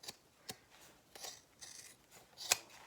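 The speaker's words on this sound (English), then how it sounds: "And then I'll just trim around the rest of the bag" Scissors snip fabric trimmed around a bag, several crisp cuts spaced irregularly, close and fairly quiet with a sharper final snip.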